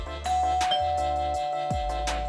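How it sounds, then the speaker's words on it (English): A doorbell chimes a few times, clear and fairly close, its ringing tones sounding alone over quiet room noise. "Doorbell ako."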